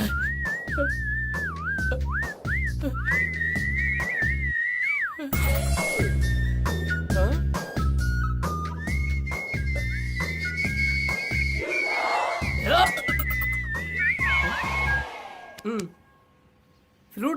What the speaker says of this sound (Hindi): ये सीटी क्यों बजा रहा है?